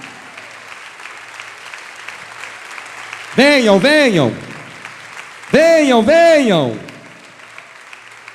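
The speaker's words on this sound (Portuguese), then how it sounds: "Vamos aplaudir mais." A congregation at a church revival camp keeps up a steady bed of clapping while a voice cries out loudly twice over it.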